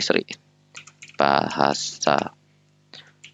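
Keys tapped on a computer keyboard while entering a search, a few quick bursts of clicking separated by pauses, mixed with talking that rises and falls nearby.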